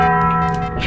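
A bell rings in the video game Lethal Company with one loud, sustained metallic tone and long ringing overtones, heard close and clear throughout the moment.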